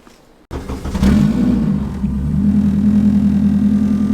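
Car engine rumbling and accelerating while driving, a steady low drone that swells after a sudden start and holds a loud, close, continuous roar without speech.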